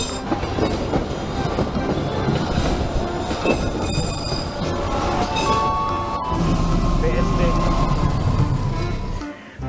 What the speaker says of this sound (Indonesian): Ini lokomotif